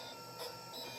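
Homemade screw-driven 3-axis 3D printer running a job at very slow speed, giving a faint steady whine of stepper motors with a soft shift midway and a short sharp click at the end.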